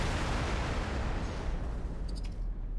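A destroyed ship blows up in a space station defense video game, a dense, sustained roaring rumble of explosion noise filling the whole clip with steady loudness and a few faint high tones near the end.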